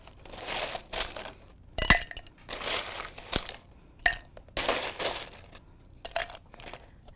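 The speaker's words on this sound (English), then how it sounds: "you'll need a shaker full of ice" Ice cubes clinking and rattling inside a cocktail shaker, with bursts of crunchy shaking separated by short pauses and a few sharp glassy knocks, close and alone.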